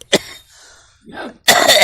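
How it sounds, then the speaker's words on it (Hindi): Close, harsh coughs: a sharp one, a rasping throat sound, then another forceful cough. "खांसी"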